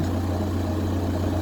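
A VW Golf Plus 1.9 TDI diesel with a 5-speed manual, recently fixed for fuel filter problems, idling steadily with a constant low hum and drone, close by, with no talking.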